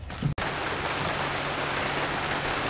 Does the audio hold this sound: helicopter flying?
no